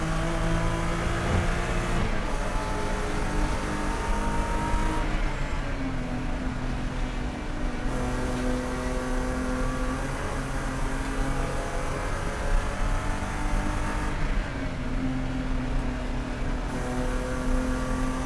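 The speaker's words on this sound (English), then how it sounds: "Getting on the gas as early as possible. And trying to get a good run through here." Race car accelerating hard through a downhill section at Lime Rock Park during a GLTC race, engine note rising and shifting steadily, loud and close throughout with no talk.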